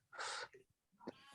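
A house cat makes a short, fairly loud vocal sound, close by, followed by a second briefer cry in a quiet room.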